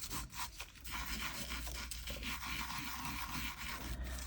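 Glitter is rubbed by hand into glue on a resin fish bowl, making a continuous close, dry rubbing and scratching with a brisk rhythm and brief pauses.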